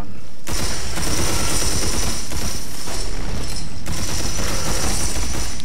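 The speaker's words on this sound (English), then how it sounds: "It's shooting some type of laser plasma gun." Energy weapon fire in Red Faction Armageddon, a laser plasma gun, sounding as a dense, loud, continuous crackling roar of rapid shots that barely lets up for several seconds.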